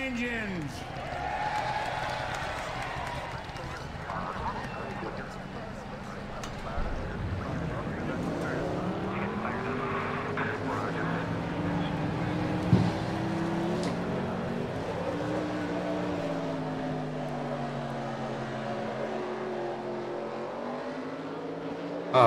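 Race car engines in the NASCAR Racing 2003 video game revving and droning at rising and falling pitch, loud and continuous, with someone talking over them.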